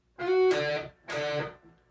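Two sustained distorted electric guitar chords from a song, each struck and held about half a second with a sliding pitch bend, played alone and fairly loud.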